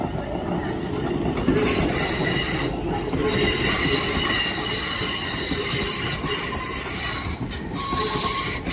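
A London Northwestern Railway Class 350 train moves through Crewe, its wheels squealing loudly in sustained high-pitched tones over a rumbling, rattling roll of carriages.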